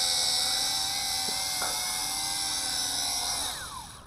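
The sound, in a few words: WLToys Q919-A FPV tank drone flying over sand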